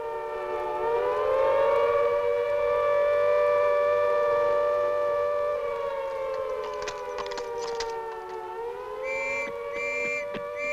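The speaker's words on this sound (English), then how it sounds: "Within seconds, the sirens sound." Air raid sirens in wartime London at the outbreak of war with Germany wail steadily, several overlapping rising and falling tones sustained loud and alone, with faint background noise.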